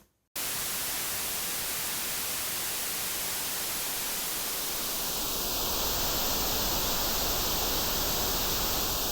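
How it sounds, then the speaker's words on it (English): Steady, flat hiss of broadband white noise fills the whole clip after a brief silent start, unchanging and loud, played through the OTT multiband compressor plugin in Ableton. "Pretty flat white noise throughout the spectrum."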